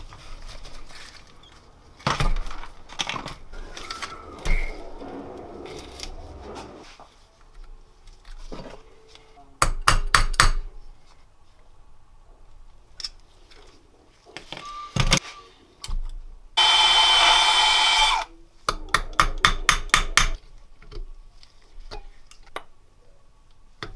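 Sharp metallic hammer blows on a bolt extractor stuck in a Keihin carburetor, from a Kawasaki KZ750, struck in irregular bursts of rapid taps with pauses, a louder sustained grinding stretch near the middle, close and distinct.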